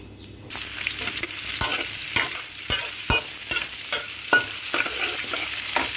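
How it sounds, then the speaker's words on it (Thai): Chili and garlic sizzle in a little hot oil in a wok, with a spatula scraping and tapping steadily as they are stir-fried. "ตั้งกระทะใส่น้ำมันเล็กน้อยนะครับ แล้วก็ใส่พริกกระเทียมครับ"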